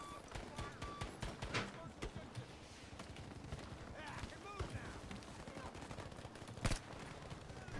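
Machine gun fire in Battlefield V, dense bursts and scattered shots with a loud blast near the end, heard under excited talk from players.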